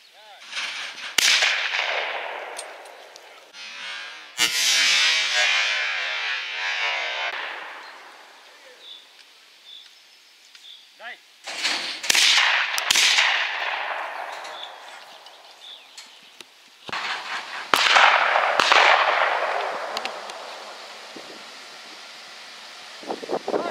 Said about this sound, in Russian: Стреляют патрончики.